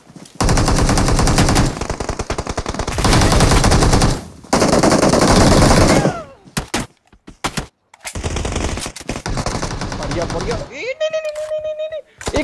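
Automatic gunfire rattles in the battle royale game BGMI in long, rapid, loud bursts. The bursts break off into short pauses and scattered single shots, with a voice talking near the end.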